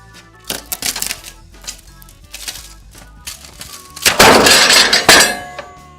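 3M aggressive film tape pulled under increasing load until it fails, giving sharp crackling and snapping clicks that build into a loud tearing burst near the end.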